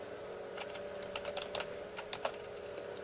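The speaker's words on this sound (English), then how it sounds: "I'm going to type in this text box up here" Quiet, irregular key clicks from typing text into a box on a computer keyboard, close and soft over a low background hum.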